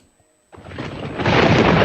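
Deep rolling thunder rumbles in after a short silence and swells louder as it continues, a stormy sound effect opening a radio insurance commercial aired during a Troy University spring football game broadcast.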